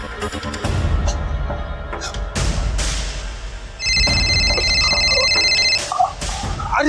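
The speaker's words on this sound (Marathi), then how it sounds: "अरे त्याचा फोन आला ना." A telephone rings during a Marathi television serial scene, giving an electronic ringtone for about two seconds amid background music and room noise.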